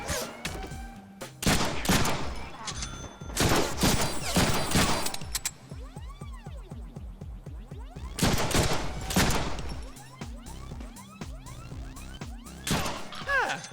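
Shooter video game gunfire arrives in rapid dense bursts, loud and close, with pauses between volleys and a final burst near the end, with ringing debris or effects in the gaps.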